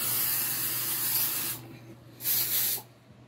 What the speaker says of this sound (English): I even got air freshener.